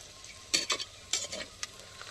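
Onions and green chillies being sautéed in a pan for goat intestine gravy, a low steady sizzle broken by a few distinct scraping stirs of a spatula, close and without talk.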